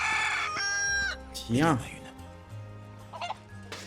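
A video-game chicken in Final Fantasy VII Rebirth gives a few clucks and a short squawking burst, mixed with game music and a French-speaking voice.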